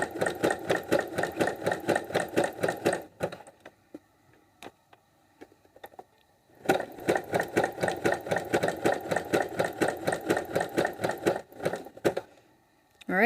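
A sewing machine stitching elastic onto a garment runs in two long bursts of rapid, steady mechanical chatter, close and loud, with a quiet pause of small clicks and handling in between.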